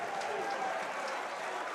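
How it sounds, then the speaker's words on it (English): A darts crowd at the WDF 2024 World Championship cheers and applauds, a steady, broad wash of clapping and voices that fills the whole short moment without a break. "Crowd really getting into this one."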